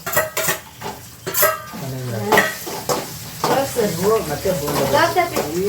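Garlic, peanuts, curry leaves, dry chillies and mustard seeds tempering in hot oil, a close, steady sizzle with spoon stirring and clinks against the pan while someone talks over it.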